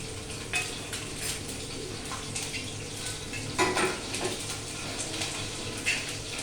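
Curry leaves and green chillies dropped into poha in a pan for dahi misal, giving steady close sizzling and frying with a few sharp spatula and utensil clinks, no talking.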